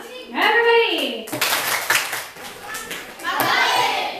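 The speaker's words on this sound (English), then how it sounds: "kindly give me a modeling clap" A classroom of children claps together in a short unison burst, then the room breaks into loose chatter and scattered claps, with a voice heard before the clapping starts.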